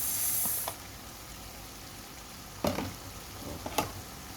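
Tomatoes go into a pan of beef, setting off a quiet, steady sizzle that swells briefly at the start. A few sharp scraping stirs follow later over the gentle crackle.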